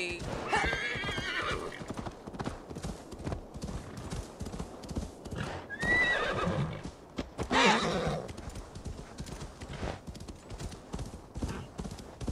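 A horse gallops under its rider in Assassin's Creed Valhalla, with fast, continuous clip-clopping hoofbeats. Loud neighs and whinnies break through now and then over the steady rhythm.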